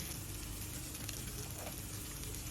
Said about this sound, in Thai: เราจะผัดจนกว่าจะได้กลิ่นหอมของพริกกระเทียมนะคะ